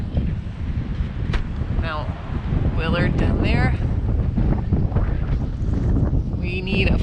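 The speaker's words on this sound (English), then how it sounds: "it's crazy windy" Strong gusty wind roars and buffets the microphone on a mountain hike near Mount Willey and Webster Cliffs, a constant loud rumble under brief talking from hikers.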